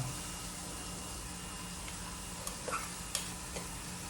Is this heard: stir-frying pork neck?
yes